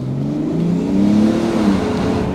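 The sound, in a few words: Mercedes GLE 450d diesel engine at full throttle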